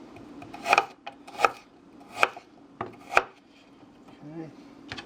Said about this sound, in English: we got a little hunk of fresh ginger, and we want this to just be minced up